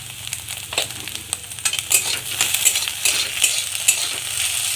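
Egg mixture with chopped green chilli and salt frying in a pan, a bright sizzle under repeated scraping strokes of stirring, close and fairly loud, growing busier toward the end.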